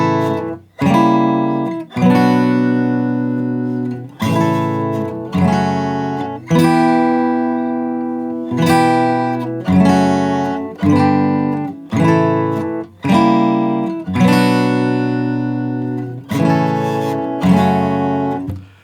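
An acoustic guitar strums a song's middle eight in an arrangement, with a standard F barre chord among the shapes. About a dozen full chord strokes ring out clearly one after another, each decaying before the next, at a steady, unhurried pace.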